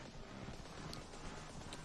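Quiet, steady hoofbeats of a dark horse carrying a robot samurai rider in Epic Games' Core, a soft continuous clip-clop rhythm at low volume with no voices.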